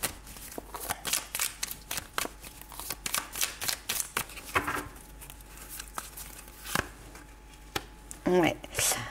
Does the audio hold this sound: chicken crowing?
no